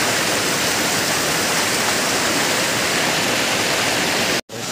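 Abungan Falls, a waterfall in Dingalan, Aurora, rushes in a loud, steady broadband roar that is close and continuous, broken only by a brief cut near the end.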